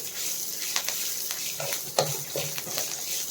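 Fresh coriander leaves sizzle and crackle in a hot pan after the stove has been switched off. The soft, continuous frying hiss is broken by a few brief stirring clicks.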